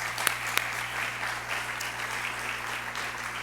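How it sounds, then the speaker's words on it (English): Applause fills a hall during a mayor's State of the City address, a steady wash of many hands with a couple of sharp, close claps standing out near the start, over a constant low hum. "So give her a nice round of applause"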